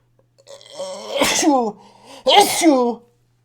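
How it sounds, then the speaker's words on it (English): Two loud sneezes close together, each with a breathy wind-up before the sharp burst. "I'm going to sneeze."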